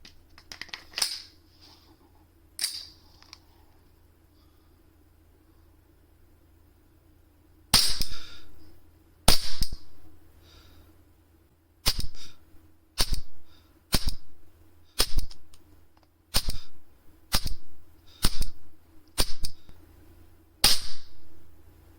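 Sharp snapping gunshots from an ASG B&T USW A1 airsoft pistol with a green gas magazine ring out, a few scattered at first, then a regular series of single shots about a second apart.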